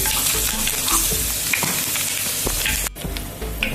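Fennel seeds added to hot oil with mustard and fenugreek for a Kerala varaal fish roast sizzle loudly and steadily up close, with small pops and stirring scrapes throughout.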